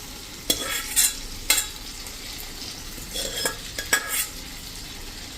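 Boiled split green moong dal with skins is stirred into cooked spice masala in a pan over a low flame, with a few scraping stirs, a spoon clinking against the metal and a faint steady sizzle underneath, with no talking.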